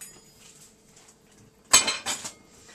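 Plates and cutlery clink while a Cuban-style pressed sandwich with Italian meats is plated, a short cluster of bright clatters rising out of a quiet kitchen background.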